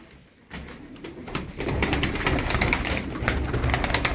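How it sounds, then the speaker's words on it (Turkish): Çorum Çıplak pigeons coo and flutter in a loft, a steady dense mix of soft calls and wingbeats after a brief quiet start, fairly close. "Bu kuşu bastıracak delikanlı aranıyor."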